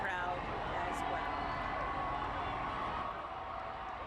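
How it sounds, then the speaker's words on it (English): An excited crowd lining a downtown Houston street for the Astros parade keeps up a steady, distant roar of cheering, with a brief whistle or shout near the start and a continuous wash of noise after it. "An excited crowd,"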